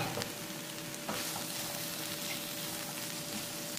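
Onions frying in a pan for chicken shawarma, a steady soft sizzle running throughout with faint scraping, heard alone at low level.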